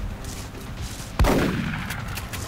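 A single sharp gunshot cracks out in the video game XCOM, loud and close, followed by a decaying echo against a low game background.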